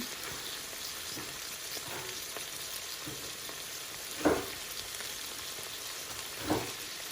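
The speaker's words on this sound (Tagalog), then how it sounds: "Ayan ang ating pork liver, malapit na lang siyang maluto." Pork liver fries in a pan with a steady, close sizzle that runs through the whole stretch, with two brief louder crackles or stirring knocks near the end and no talking.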